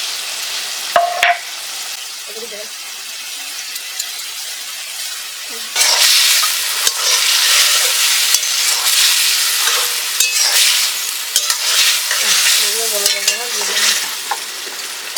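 Tender homegrown okra frying in a pan as mustard paste is stirred in for vegetarian shorshe bhindi, a loud, steady sizzle broken by the scrape and clatter of a spatula, close up with no talk.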